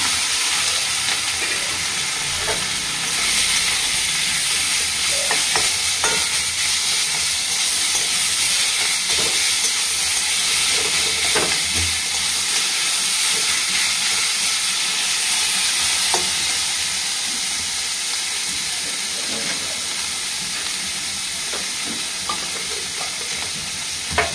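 Garlic and nigella seeds fry in a pan, a loud continuous sizzle and hiss throughout with occasional stirring clicks and scrapes.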